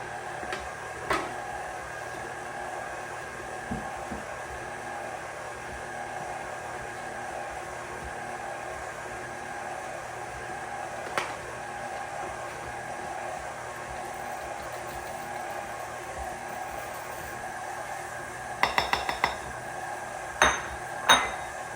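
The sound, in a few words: stand mixer with paddle attachment mixing summer sausage meat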